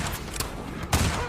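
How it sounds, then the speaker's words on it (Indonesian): A burst of massed gunfire rings out in a Western shootout from The Magnificent Seven, loud and dense, with a sharper blast near the end over rumbling background. "Kemudian dihujani lagi dengan tembakan demi tembakan."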